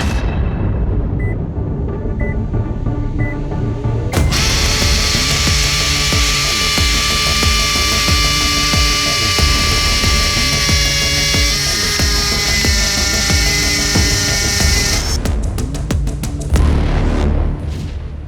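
A Flex power drill with a masonry bit bores into a cinder block, a loud, continuous grinding whine running steadily for several seconds before breaking into rapid rattling knocks as the bit is pulled out and the drill pounded down.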